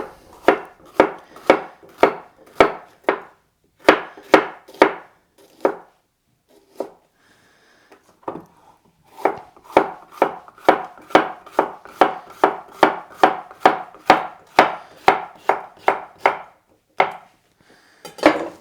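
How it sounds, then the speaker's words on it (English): A knife chops bell peppers into lengthwise strips on a cutting board, a close run of crisp, regular thuds in quick bursts with a short pause partway through before the steady rhythm resumes; no talking. "I want some nice strips of peppers. So I'll do that. Just cut them lengthwise."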